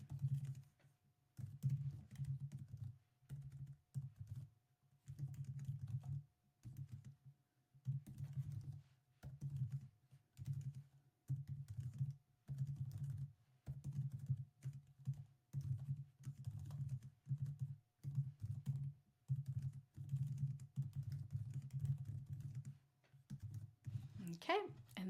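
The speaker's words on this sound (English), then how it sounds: "I'm just gonna type in a few notes." A computer keyboard is used to type notes into a social media scheduler, giving a steady, close patter of soft keystrokes in quick bursts over a low background hum, with brief pauses between runs.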